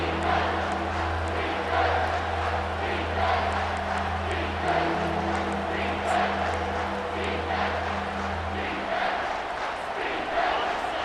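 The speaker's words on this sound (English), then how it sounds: "Decibels rising as the crowd gets behind this defense on 3rd down." Stadium crowd noise from EA Sports College Football 25 swells as fans roar behind the defense on third down, a steady dense roar with a low sustained hum beneath, continuous and loud throughout.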